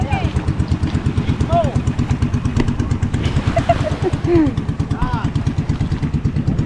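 A small boat engine chugs steadily with a rapid, regular putter close by, while people talk over it.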